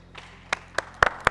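A church congregation claps in a sparse, uneven run of about six sharp hand claps. The claps grow louder toward the end over a faint low hum.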